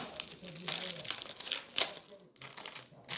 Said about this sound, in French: Donc nous allons la déballer ensemble.